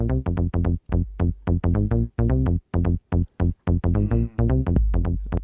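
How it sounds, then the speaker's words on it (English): Busy 808 drum-machine groove with rapid punchy hits and deep low thumps driving a tight, repetitive rhythm, loud and upfront. "The 808 going on there."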